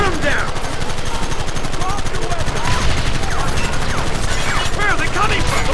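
Dense, continuous gunfire from rapid shots and fusillades in the Red Dead Redemption Remastered video game, loud and steady throughout, mixed with shouting voices in the background.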